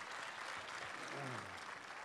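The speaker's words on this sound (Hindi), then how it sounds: "आप सब एक बार मेरी बात की ताली बजा तायद करें" An audience at an Urdu mushaira poetry recital in Delhi claps steadily but faintly, a soft even patter with a brief voice heard beneath it.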